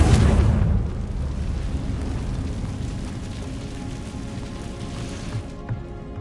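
A Confringo fire spell bursts in Hogwarts Legacy with a loud, close, rushing blast right at the start, then fades into a long, rough, crackling rumble that lingers for several seconds.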